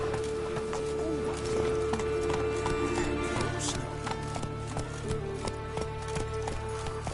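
Horse hooves clip-clopping at a steady, fast rhythm in The Witcher 3 video game, with game ambience and music beneath and a brief voice urging the horse on.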